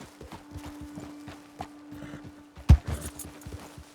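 Horses in Red Dead Redemption 2 walk with a steady rhythmic clip-clop of hooves, close and moderately loud, with a heavier thump partway through.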